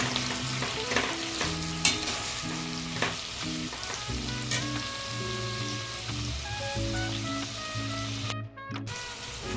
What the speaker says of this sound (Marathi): हा कांदा असा परतवून घेतला